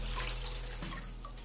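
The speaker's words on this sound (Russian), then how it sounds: "Вот я заполнил банку, вода переливается в контейнер." Steady running water splashing and trickling as it overflows from a filled jar into a container, close and continuous with no voices.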